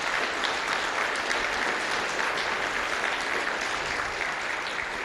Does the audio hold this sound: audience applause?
yes